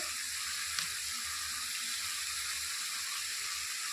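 Spices and ingredients for a fish curry sautéing in a hot pan, a steady bright sizzle and frying hiss throughout with a faint stir partway.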